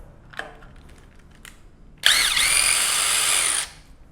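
A power drill drives a DeWalt FlexTorq impact bit to countersink a hole about 1/16 inch deep, with a single loud, steady whine lasting about a second and a half, preceded by a few faint clicks and handling noises.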